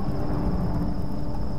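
Thunderstorm in the Tomb Raider video game, a low continuous rumble of thunder with rain-like hiss, steady and fairly loud through a short stretch with no voices.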